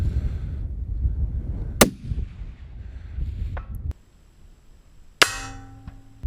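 Loud rifle cracks at long range, one sharp report followed later by a second shot with a ringing tail, with a fainter knock between them and wind-like outdoor rumble.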